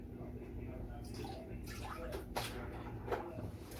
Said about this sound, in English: put that into some water I've taken from the tank